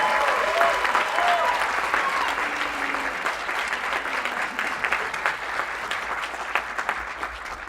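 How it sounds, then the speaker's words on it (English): An audience claps and applauds steadily at a demo day event, a dense, fairly close wash of clapping that holds for several seconds, with some cheering voices mixed in. "let's give a big round of applause to all the fellows"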